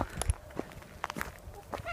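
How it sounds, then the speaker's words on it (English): Scattered clucks and squawks from poultry nearby, with some soft shuffling and rustling between the calls. "Chickens."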